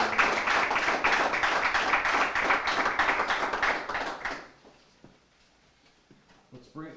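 An audience at a Poughkeepsie Police K-9 Academy community event claps for the trainers, a dense round of applause lasting a few seconds that fades out, followed by a brief voice.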